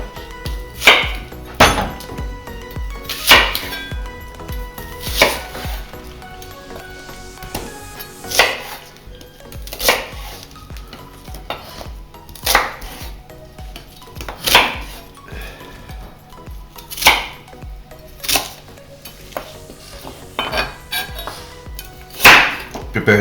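Knife chopping onions on a cutting board while prepping bolognese sauce, irregular bursts of quick close thuds separated by short pauses, steady throughout with no talk.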